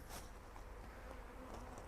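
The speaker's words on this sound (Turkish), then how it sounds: "Maskemin içine arı girmiş." A honey bee buzzes steadily and close inside a beekeeper's mask at an apiary during a hive hygiene check.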